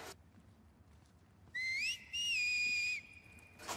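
Whistling in The Last of Us Part II: a clear, bright whistled phrase rises, then two sustained tones follow with a short gap between them, with a brief noisy burst at the end and no talk over it.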